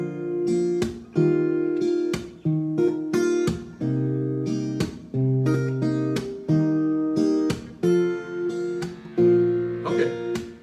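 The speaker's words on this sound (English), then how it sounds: "It's a full slap on the strings," Guitar strings struck with a full-hand slap in a steady rhythm, each hit a sharp percussive knock followed by a ringing chord that decays, played up close and loud with no talking.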